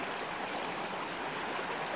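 A mountain river running low like a creek in the dry summer season flows with a steady, broadband rushing and gurgling wash, continuous and close, with no voices.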